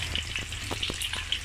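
Stuffed tofu sizzles and crackles steadily as it fries in slightly yellowed, reused oil, a continuous close-up sputter with small pops scattered throughout.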